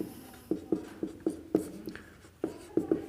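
A definition being written on a board during a class 11 chemistry lesson: faint, rhythmic taps and short scratching strokes, about a dozen in a few seconds, close and alone.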